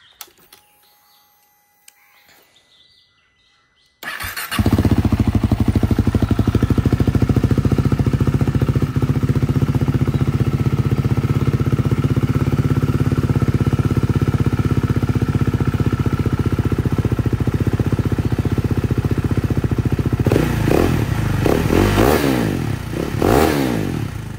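Exhaust of a modified KTM Duke 390 fitted with a BS4 exhaust with the dB killer cut out, idling loud and close in a steady throaty drone with a few sharp revs near the end.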